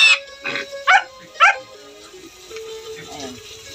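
Two-week-old piglets on a small farm let out several sharp, high squeals in quick bursts, close and loud at first, then a voice talks quietly under fainter animal sounds.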